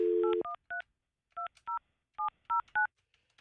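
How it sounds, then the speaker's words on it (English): A telephone is dialed with touch-tone keys: a dial tone cuts off into about ten crisp, evenly spaced beeps, clear and close with quiet gaps between them. "All right, calling Michelle."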